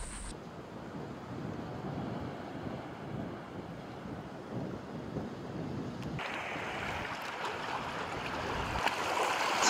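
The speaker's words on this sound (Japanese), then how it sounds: "めちゃくちゃ川上から河口に向かって濁流が流れ込んでますね" A steady, loud rush of a muddy, rain-swollen river pouring into an estuary roars continuously, with gusts of wind buffeting the microphone and the noise swelling slightly toward the end.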